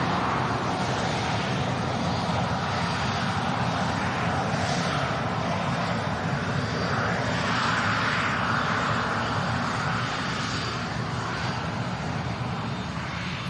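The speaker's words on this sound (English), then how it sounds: "Love the engine sound." Jet aircraft engine at Manchester Airport: a loud, sustained roar with a shifting whine that holds steady throughout and eases slightly at the end.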